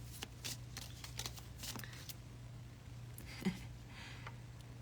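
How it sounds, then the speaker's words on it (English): Tarot or oracle cards being shuffled for a reading: a close, quiet riffle and slide of cards repeating in short runs over a low steady hum, with no one talking. "So after you, Amanda, I will pull a collective card for anybody else who jumps onto the call."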